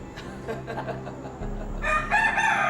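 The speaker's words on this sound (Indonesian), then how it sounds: "Ini namanya jago hebat." A fighting rooster crows loudly in a single drawn-out call near the end, preceded by low rumbling background noise and faint scattered sounds.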